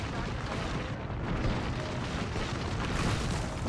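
Airstrike blasts in Apex Legends rumble as a dense, continuous wall of explosive noise, loud and sustained for several seconds with a slight swell near the end, no voices over it.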